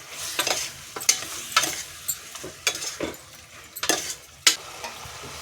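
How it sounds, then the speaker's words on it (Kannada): Mutton pieces fry with rock salt and turmeric in a pressure cooker while a spoon stirs, giving repeated loud scraping strokes in an uneven rhythm over a constant sizzle, with no talk. "ಹಾಕ್ಕೊಂಡು ಚೆನ್ನಾಗಿ ಫ್ರೈ ಮಾಡ್ಕೊಳ್ಳಿ."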